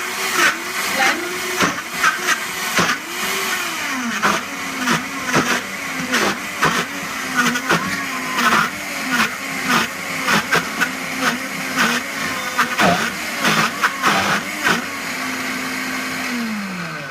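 A blender whirs through a chickpea falafel mixture for a home-made falafel, its motor loud and steady with repeated pulsing surges and changes in pitch as the thick mix churns, and no voices over it.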